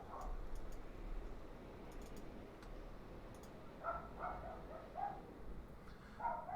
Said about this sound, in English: the dogs are going off because somebody decided to drive by and honk their horn